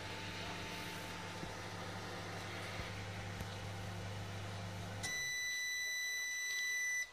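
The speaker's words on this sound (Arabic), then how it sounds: "تعالوا هظبط الميكرويف على، خلينا نقول دقيقتين كفايه، ونبتدي نشغله." A microwave oven runs with a steady low hum, then stops and gives a series of sharp, high electronic beeps near the end.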